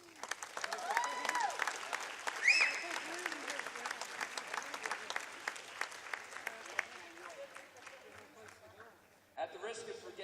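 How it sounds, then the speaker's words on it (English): Crowd applause at a championship event for Saints vs Power Play, with sustained clapping, a few cheers and whistles near the start, then a gradual thinning of claps and voices at the end. "Please give yourself a round of applause for all that you do on a daily basis."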